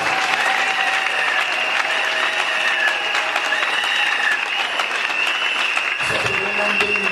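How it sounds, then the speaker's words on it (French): A church congregation at a religious conference applauds and cheers, dense sustained clapping with whistles and shouts filling the room, loud and continuous, with voices calling out near the end. "Est-ce qu'on peut l'acclamer quand même pour Jésus?"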